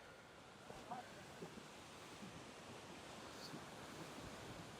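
Ocean waves wash steadily onto Yarada beach in Vizag as a continuous broad surf roar, mixed with gusting wind buffeting the microphone.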